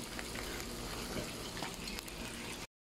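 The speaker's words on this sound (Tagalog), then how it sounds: "Lagyan natin ng tubig" Water is poured into a cooking pot holding fish for a Filipino vegetable dish with bitter melon, a steady splashing rush running for a few seconds and then cutting off.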